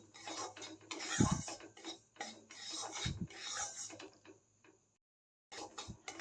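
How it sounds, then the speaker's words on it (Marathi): Semolina (rava) is dry-roasted in a pan, with a spoon scraping and rattling against the metal in repeated bursts of stirring, moderately close, with one brief pause near the end. "रवा चांगलं भाजून घेऊया"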